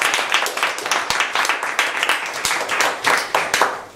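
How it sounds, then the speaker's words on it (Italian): Lively, close clapping from attendees at the first congress of the Associazione Radicale Antispecista, honouring the secretary's work, with quick, dense hand claps and rhythmic swells throughout. "Direi un applauso a questo punto per il lavoro del nostro segretario."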